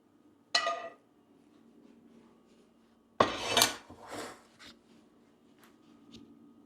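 A spoon scrapes and clinks against a dish while melted butter is spooned over mashed potatoes, two short bursts of clatter separated by quiet.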